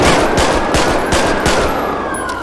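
Rapid automatic gunfire in GTA 5 during a police shootout, a dense run of loud sharp shots over about two and a half seconds with no speech.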